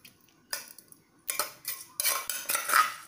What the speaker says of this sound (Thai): เดี๋ยวเราตักผักไว้ก่อนนะคะ